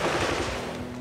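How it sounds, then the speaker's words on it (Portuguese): Gunfire in a jungle firefight between the army and guerrillas in Colombia, a brief, loud burst of rapid shots with a crackling, reverberant tail. "E voltam os tiros."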